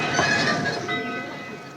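An old steam train runs steadily on rails at a country junction, a continuous rumbling, wheezing mechanical rush with faint whistle-like tones, moderately loud and unbroken throughout.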